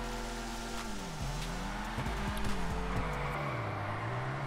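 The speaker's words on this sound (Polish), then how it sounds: "Na pewno nie można cisnąć gazu do końca cały czas, żeby samochód był w ślizgu." Car drifting in GTA Online drift mode, the engine revving up and down in sweeping pitch while tires squeal and skid steadily throughout, loud and close with no voices.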